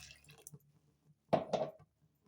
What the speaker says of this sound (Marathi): अजून पण थोडं पाणी ओतते